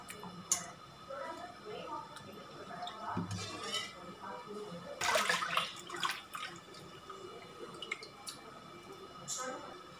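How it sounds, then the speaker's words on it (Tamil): Raw shrimp are rinsed in water at home, giving small splashes, drips and soft squishing with occasional clinks of a bowl, close and quiet, while someone talks over it. "ஒரு மூணு தடவை இல்லை நாலு தடவை நல்லா அலசிக்கோங்க"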